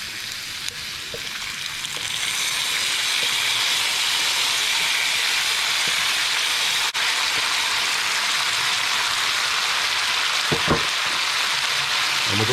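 A chili, onion and garlic paste fries in a pan with anchovies, a steady, close sizzling hiss that holds for the whole stretch with small pops and no talk.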